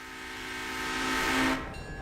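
A locomotive horn sounds in the railroad simulation game Railroader, a loud sustained whistle that swells toward the end and then cuts off sharply, leaving quieter rail ambience.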